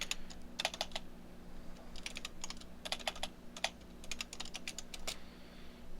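Quick bursts of light key clicks as a command is typed on a computer keyboard, clustered taps with brief pauses between, close and soft over a faint steady hum, no voices.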